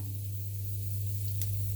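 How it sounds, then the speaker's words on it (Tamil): Mustard seeds splutter in hot oil: a steady hiss over a low hum, and one sharp pop breaks through near the end. "கடுகு கொஞ்சம் பொரிய ஆரம்பிக்கட்டும்."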